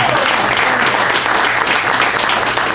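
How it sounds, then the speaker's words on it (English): A live event audience applauds a panel of women, a thick, sustained wash of clapping with faint cheering, loud and continuous throughout. "Y'all clap it up for these ladies."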